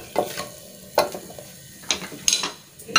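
Whole spices such as bay leaf, cinnamon and cardamom sauté in a pan for kuska, with several sharp spatula scrapes and clinks over a steady low sizzle, close and without talk.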